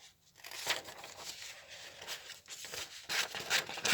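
Scissors cut through bridal dress fabric as part of an alteration, giving close, rustling, tearing strokes in several bursts, each lasting a moment.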